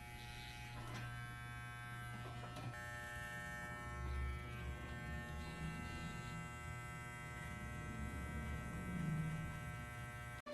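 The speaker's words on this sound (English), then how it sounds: "Now with the 1 guard, we're going to position the clipper to just rock ever so slightly up" An electric hair clipper fitted with a 1 guard buzzes steadily and close while cutting a man's hair, a constant motor hum with slight load changes, ending with an abrupt click as it stops.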